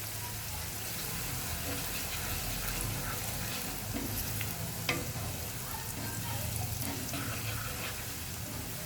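Green garlic sizzles and crackles steadily in hot oil as it is stirred, a continuous close frying hiss with occasional scraping clicks of the spoon.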